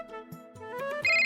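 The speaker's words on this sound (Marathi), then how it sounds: "अरे वसूचा फोन." A phone ringtone plays a short melodic electronic tune, rising to a louder sustained chime at the end, with no talking over it.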